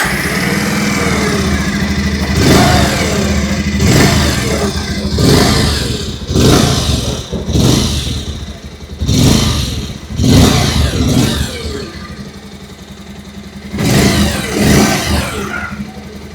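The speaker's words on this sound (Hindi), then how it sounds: "आइए अभी सुन लेते हैं इस बाइक की एग्जॉस्ट नोट" Exhaust note of a 2026 Bajaj Pulsar 150 Twin Disc motorcycle: a steady idle punctuated by about six sharp throttle blips that rise and fall, recorded close and loud with no talk.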